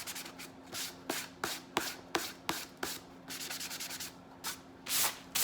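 Hand sanding block rubbed around the edges of a Dollar Tree ornate frame sign, giving close, repeated scratchy strokes in an uneven rhythm with brief pauses between passes.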